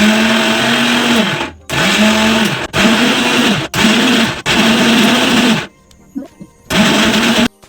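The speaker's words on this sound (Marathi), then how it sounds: "आता मिक्सरच्या भांड्यामध्ये घेतलेलं आहे, तर मी याला मिक्सर लावून घेते।" A mixer grinder blends detox cube ingredients in a series of loud, close pulses, five whirring bursts separated by short pauses, with a brief quieter gap of small clatter before a final burst.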